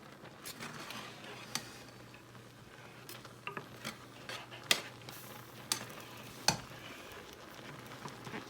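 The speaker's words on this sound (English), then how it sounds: "We want this to get bubbly. And you need to stir it so it doesn't burn on the bottom." A spoon stirs bubbling mac and cheese sauce in a pot in a middle-school cooking class: soft continuous simmering hiss, broken by irregular sharp clinks and scrapes of the utensil against the pot.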